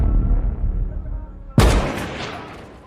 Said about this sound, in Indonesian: Mustafa menembak satu tentara Amerika.